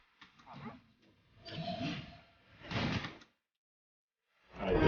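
A hostile dog attacks in the fantasy role-playing video game Sword Coast Legends, giving several growling, snarling bursts separated by short silences, with faint game sounds between them.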